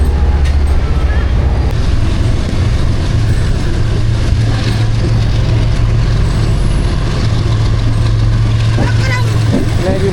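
Pakistan Railway Business Express train pulling out of Karachi, a loud continuous rumble and rolling drone heard from on board with a steady low hum, while someone talks throughout.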